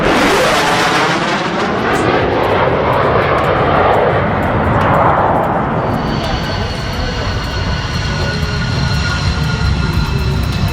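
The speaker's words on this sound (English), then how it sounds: "The 2023 London Air Show featured the F-22 Raptor delivering one of the most intense and thunderous demos you'll ever witness." F-22 Raptor fighter jet roaring through an intense air show demonstration at the 2023 London Air Show, a loud continuous broadband jet rumble that shifts pitch as it passes, with a steady whine emerging in the later seconds.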